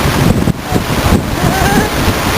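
Outdoor wind buffeting a microphone on a summer walking tour in Winnipeg, a steady rushing roar with gusty low rumble throughout, loud and close, with no talk.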